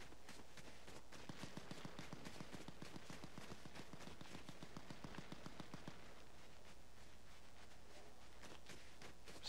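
Gunfire in Fortnite Zero Build ranked play: a long rapid string of faint, distant shots ticking steadily for several seconds before thinning out, with no voices over it.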